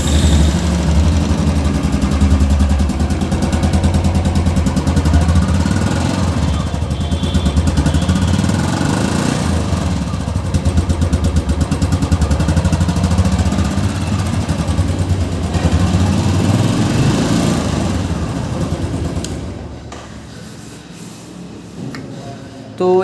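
A Royal Enfield Classic 350 BS6 motorcycle idles steadily and close by with a deep, even single-cylinder thump that holds for about twenty seconds, then drops to a quieter idle near the end.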